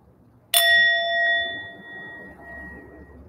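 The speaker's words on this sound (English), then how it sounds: "So I'll ring the bell." Meditation bell struck once, a bright close ring that hangs and slowly fades over a few seconds in a quiet room.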